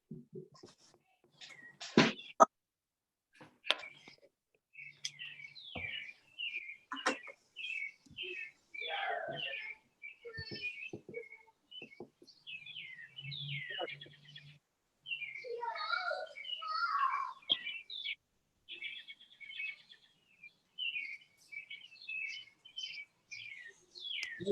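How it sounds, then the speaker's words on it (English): Small songbirds chirp and trill almost nonstop, with rapid overlapping calls from more than one bird sounding fairly close and clear over a quiet background, broken by a few sharp knocks and brief low hums. "There's a bird singing."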